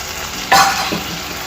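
Garam masala and chili powder frying in a pan, a low hiss with one sharp scrape of a spoon stirring through the mix, close by and alone.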